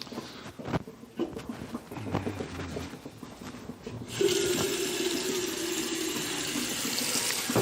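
Water pours steadily from a tap into a container for making sugar syrup, with a few knocks and clatters first, then a loud continuous gushing stream that runs on for several seconds.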